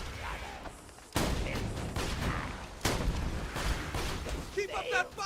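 Video game gunfire in a Roland mod: a heavy volley of shots crashing in abruptly, then sustained rapid bursts with a second loud surge, dense and close, with faint talk underneath.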